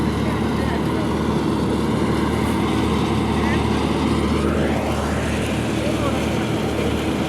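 A tractor engine runs steadily nearby at a wheat harvest, giving a loud, continuous broadband drone throughout, with a faint voice briefly above it.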